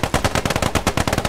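Bren light machine gun fire in the video game Post Scriptum, a loud, close burst of rapid shots lasting just over a second.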